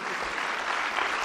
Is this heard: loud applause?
yes